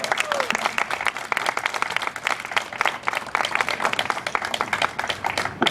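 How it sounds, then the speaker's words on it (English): Sustained applause from a crowd, dense clapping filling the whole stretch at steady loudness, with a few voices mixed in. "Please give Jackie another big round of applause for all the work she's done"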